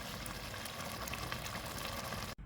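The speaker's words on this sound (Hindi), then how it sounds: "तो दोस्तों तकरीबन 5 मिनट हमने मीडियम फ्लेम पे पकाएंगे" An egg and tomato dish (anda tamatar) simmers over a medium flame, giving a steady, dense bubbling sizzle that holds evenly close by, then cuts off abruptly just before the end.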